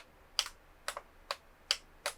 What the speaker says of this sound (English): These buttons that sort of click twice.